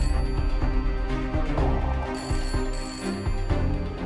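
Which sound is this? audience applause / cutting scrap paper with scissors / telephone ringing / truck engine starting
telephone ringing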